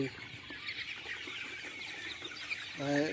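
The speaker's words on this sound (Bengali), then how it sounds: "প্রত্যেকটা মুরগি পানি খাওয়ার জন্য চেষ্টা করতেছে" Chickens about 38 days old in a poultry shed crowding around drinkers, a faint, continuous murmur of clucking with a short louder call near the end.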